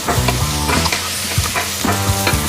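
An egg fries in peanut oil in a wok, loud close sizzling with rapid rhythmic scraping and stirring strokes of a utensil against the pan, no voices.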